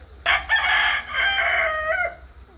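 A rooster crows once up close, a loud drawn-out call lasting about two seconds.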